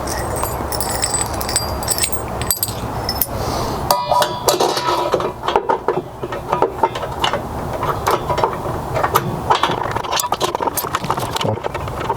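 A ratchet tightens a bolt on a seat bracket for a rear bench seat in a 2006-2018 Mercedes Sprinter van, giving close, rapid metallic clicking in bursts with clinks and rattles of hardware.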